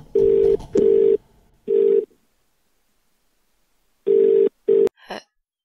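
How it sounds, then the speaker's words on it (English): A telephone rings in the horror adventure video game The Cat Lady, sounding as steady electronic ring bursts: three in quick succession, a pause, then two more, ending with a short click as the call is answered. "answer the phone."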